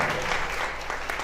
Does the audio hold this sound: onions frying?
no